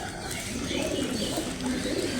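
A pigeon coos in soft, close, repeated throaty calls over a brief stretch.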